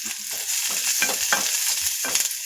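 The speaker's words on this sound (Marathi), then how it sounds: "कांदा परतून घेणार आहे 2 मिनिटं।" Onion sautéing in a spoonful of oil in a pan, a close continuous sizzle with soft, irregular stirring scrapes throughout.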